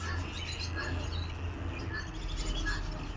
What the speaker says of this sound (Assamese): এইটো পোৱালি জাগিছে, এটা পোৱালি